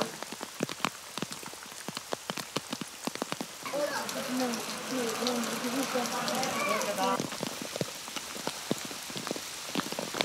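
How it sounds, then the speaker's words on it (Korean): Sleet and hail fall on a Himalayan mountain trail during a Makalu climb, making a dense, crackling patter of hard pellets throughout. A voice speaks under the patter in the middle stretch. "오늘 출발하자마자 진눈깨비와 우박이 쏟아지기 시작한다."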